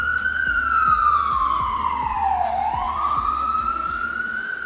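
An emergency vehicle siren wails steadily nearby, its tone sliding down and then climbing back up as it passes, over a low road rumble.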